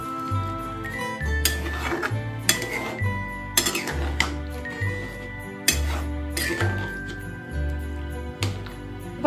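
A pumpkin and potato curry with chana dal is stirred in a pan, giving repeated metallic scrapes and clinks of the utensil against the pan over a steady low hum.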